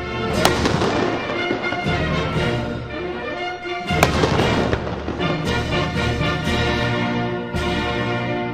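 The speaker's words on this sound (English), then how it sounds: "The Spaniards attempted to ward off the privateers with cannon fire." Cannon fire in a Spanish defence against privateers at Monterey, rendered as two heavy booming blasts several seconds apart over a dense rumbling battle din, loud and close, with no talk.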